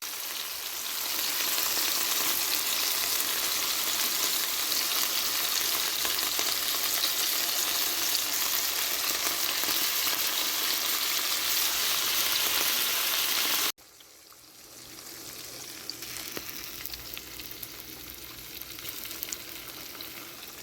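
Eggs frying in a pan with salmon, a dense, loud, steady crackling sizzle up close that cuts off abruptly, followed by a quieter, softer sizzle.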